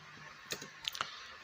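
A few separate key clicks on a computer keyboard while entering Python code, faint and sparse, three or four light taps in about a second against a quiet room hiss.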